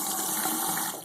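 Water gushes steadily from a Delta two-handle faucet just turned on, a loud, even hiss of running flow throughout with no talk.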